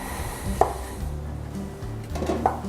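A knife slices food on a cutting board in a quiet kitchen, giving a few soft, close taps and cuts spaced apart, one early and a pair near the end, with no voices.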